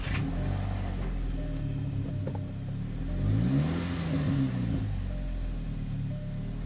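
Revving engine of a VW MK5 GTI fitted with a cold air intake, a steady close rumble whose pitch rises and falls through a few throttle blips, with no talk.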